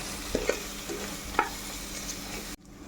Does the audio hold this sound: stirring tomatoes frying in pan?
yes